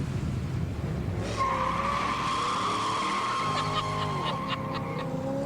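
A car brakes hard and its tires skid and squeal loudly, in a sustained screech lasting several seconds that shifts in pitch near the end. No voices are heard.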